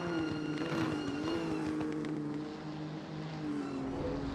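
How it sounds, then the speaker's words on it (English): Race car engine in a sim racing game, a Nissan, droning steadily at high revs with a continuous whine and small pitch shifts, loud and constant throughout with no talk. "It's so fast, that car."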